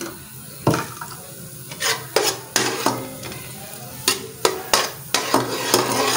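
Onions browning in ghee in a pan for a chole dish sizzle steadily, broken by a series of sharp scraping stirs from a spoon or spatula, close and fairly loud.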